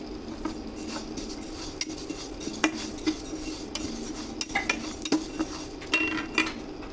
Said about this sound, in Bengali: মুগ ডালটা ভেজে নেব